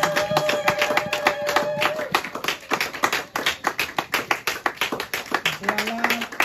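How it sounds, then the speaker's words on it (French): A church congregation claps loudly and steadily in a fast rhythmic beat, with voices singing or calling out underneath. "Acclamez très très fort pour notre Seigneur Jésus"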